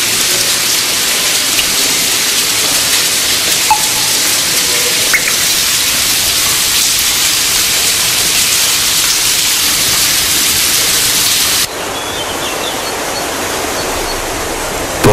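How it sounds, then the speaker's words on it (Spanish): A public fountain in the Plaza del Torico in Teruel, Spain, pours water in a steady, even splash that runs unbroken and fairly close, easing slightly softer near the end. "El agua de la fuente nos recuerda que la lluvia que discurría por la plaza del Torico terminaba escurriendo en un aljibe"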